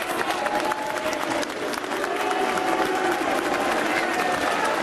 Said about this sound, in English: he's getting applause and he's getting some boos as well